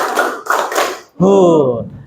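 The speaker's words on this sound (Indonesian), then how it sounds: "Ya, tepuk tangan" A class playing a classroom clapping rhythm game claps in two quick bursts of many hands, followed by a loud voiced shout from the group.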